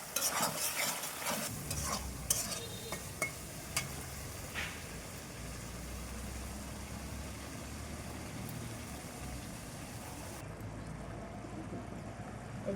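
Ginger garlic paste, salt and green chilies fry in a pan for a prawn and bottle gourd curry, with a soft steady sizzle and a few scraping stirs near the start, no talk.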